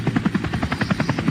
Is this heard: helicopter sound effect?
yes